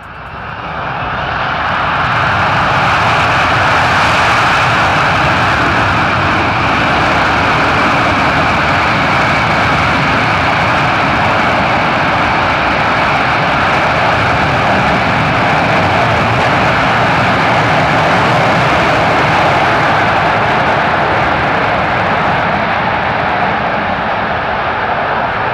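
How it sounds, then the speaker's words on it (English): A C-17 transport jet's engines roar in reverse thrust after landing, swelling quickly to a loud, sustained broadband blast with a rough, tonal whine riding on top as one engine suffers a compressor stall. "while reversing, one of its engines suffered a compressor stall"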